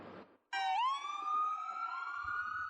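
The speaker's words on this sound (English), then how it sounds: "it wasn't long before we heard sirens" A police siren wails on 7th Street near Market in a city, one loud rising tone that settles into a sustained steady pitch close by, after a brief burst of street noise.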